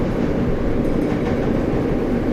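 An NYC Subway R142 train runs along the track in the OpenBVE simulator, producing a steady, loud low rumble with continuous rolling noise and no breaks.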